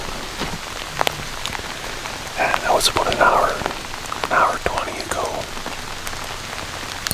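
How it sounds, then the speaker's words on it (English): Steady rain patters on surfaces outdoors during a bear hunt, a constant close hiss with scattered drops, while someone speaks quietly over it. "because it's rained this whole time"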